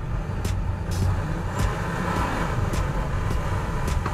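A 2020 Toyota Prius AWD-e held at full throttle while stuck on rollers during a slip test, giving a loud, steady motor and drivetrain drone with repeated short sharp bursts of noise over it.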